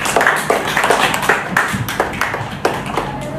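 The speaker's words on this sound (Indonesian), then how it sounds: "Kasih aplaus untuk Atala" Students applaud a classmate named Atala in a classroom, with a short, close burst of brisk, uneven hand clapping that is loud and continuous for a few seconds.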